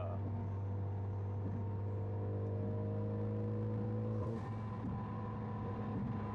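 Steady low cabin drone inside a 2014 Ford Focus ST cruising around 80 mph, a constant engine and road hum with a brief shift in tone near the end, no voices.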